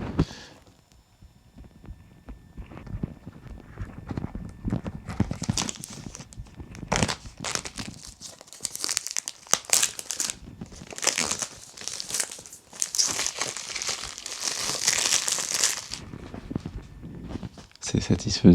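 A small knife slicing and tearing into a plain cardboard box holding a Comica BoomX-D2 wireless microphone, close and crinkly, with bursts of scraping and ripping that build toward the end.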